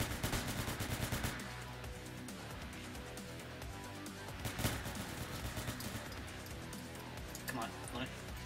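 Gunfire in the Roblox game Entry Point rattles out in rapid bursts, loud at first and then scattered through a busy, dense game soundscape with a voice talking over it.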